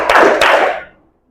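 Two sharp hand claps sound in a classroom with a short gap between them, loud and near, each followed by a brief room echo.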